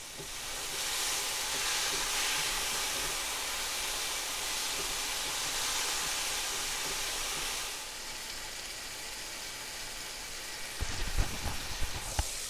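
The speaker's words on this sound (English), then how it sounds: "Sizzle!" Loud, crackling sizzle of chicken and steak for fajitas frying in a hot pan runs continuously, easing slightly before a few clanks and stirring sounds near the end.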